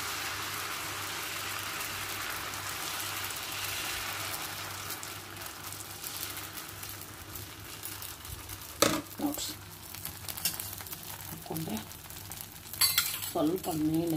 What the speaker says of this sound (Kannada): ಮತ್ತೆ ದಪ್ಪ ಹಾಕೋತೀನಿ ದೋಸೆ, ನನ್ಗೆ ದಪ್ಪ ಇಷ್ಟ